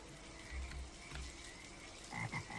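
A frog croaks in the video game The World, several short ratcheting croaks at intervals, clear and close against a quiet, softly humming game backdrop.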